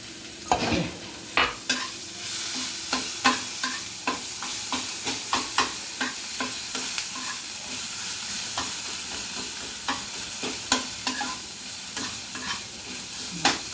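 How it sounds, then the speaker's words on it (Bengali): Spices for chole sizzle steadily in hot oil in a pan while a spoon scrapes and stirs in regular taps, close and steady throughout with no talking. "মশলাটা ভাজা ভাজা হয়ে গেছে।"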